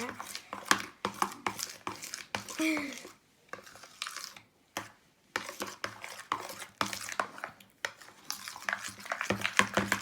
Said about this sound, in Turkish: Şimdi karıştırıyorum iyice.